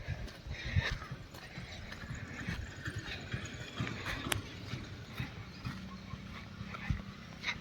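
Rhythmic clip-clop of a mare's hooves on hard ground, fairly faint and steady, with scattered background noise and an occasional distant animal call.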